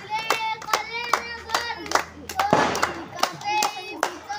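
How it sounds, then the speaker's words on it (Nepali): Rhythmic hand clapping by a small group during a festive Laxmi Puja dance, sharp claps repeating about twice a second, close and clear, with voices talking and calling out between the claps. "धेरै ताली बजाऊ त"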